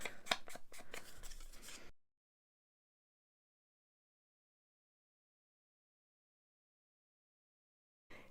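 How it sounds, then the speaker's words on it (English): Scissors snipping inked cardboard pieces, a quick run of close, crisp cuts lasting about two seconds, then silence. "So I'm going to cut these out for the first time"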